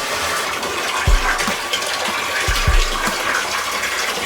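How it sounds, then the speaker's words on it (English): Tap water gushing into a garbage can, a continuous splashing fill with a few low thumps as the stream hits, close and loud with no talking. "I fill up this garbage can for water"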